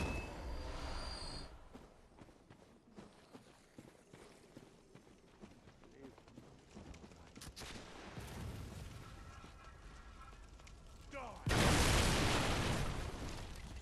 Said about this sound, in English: Pretty cool explosion there.